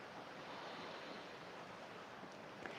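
Steady rushing breath drawn through the nose with a constricted throat, ujjayi style during a morning pranayama practice, a soft continuous ocean-like hiss held evenly throughout with no talking.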